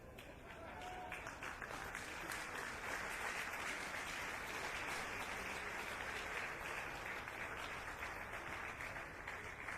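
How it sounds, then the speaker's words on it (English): An audience applauds a guest of honor at a national teacher of the year award ceremony, with sustained, fairly distant clapping and crowd noise rising after a second and continuing steadily, faint overall. "It can even be a standing applause if you don't mind."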